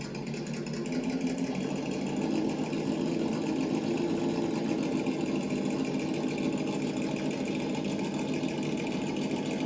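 A TRX4 Sport RC truck's single-speed gearbox runs in a slow crawl, giving a steady, even mechanical whir and hum that holds at a constant level throughout with no talking.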